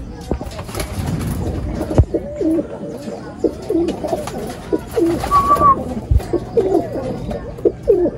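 Pigeons coo repeatedly at a loft after a racing-pigeon race, soft rounded calls rising and falling throughout, with a brief higher chirp and occasional thumps and wing noise nearby.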